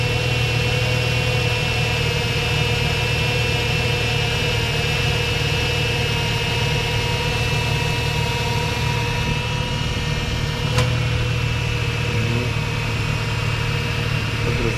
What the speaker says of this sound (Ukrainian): Мотор робить нерівномірно.